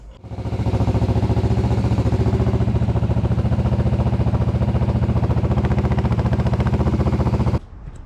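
A motorcycle engine with freshly adjusted carburetors runs close and loud, a fast steady pulsing beat with clattery mechanical texture held for several seconds before cutting off abruptly.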